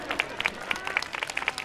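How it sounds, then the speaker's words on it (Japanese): A roadside crowd claps for runner Allyson Felix at the Midosuji Runaway event in 2017, giving quick, scattered, fairly faint hand claps with a voice talking over them. "皆さん大きな拍手を。"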